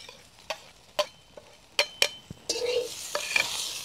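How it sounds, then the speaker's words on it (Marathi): Okra is stirred in a pan over a wood-fired village stove, with several sharp spatula taps on the metal. Then a louder, steady sizzle rises as diced onion and tomato drop in, with more scrapes over it. "आपण आता हे जे चौकोनी कांदा आणि टोमॅटो कापून ठेवलेले होते ते पण त्याच्यामध्ये टाकून घेणार आहे"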